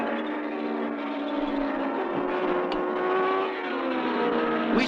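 Racing cars at the 1949 French Grand Prix, with Prince Bira, Louis Chiron and Whitehead's Italian car battling for the lead; a steady, fairly loud engine drone runs throughout, with a rising note at the very end.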